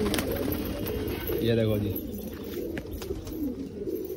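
Pigeon newly let out of its cage cooing in a low, rolling series of coos near the microphone, over background noise, with someone speaking briefly.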